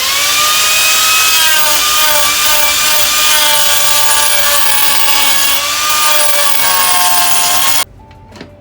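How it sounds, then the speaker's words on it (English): A rotating carving tool grinding into wood, a loud, steady high-pitched whine with shifting tones and a rasping edge, cutting off abruptly near the end. "This is another rotating tool."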